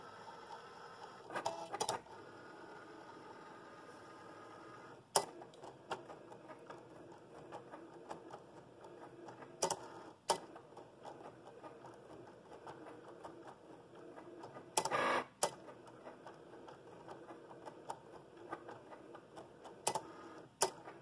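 Cutting machine working through a design for etching recycled glass bottles, a quiet steady mechanical hum punctuated by sharp ticks and clicks at irregular intervals, close by.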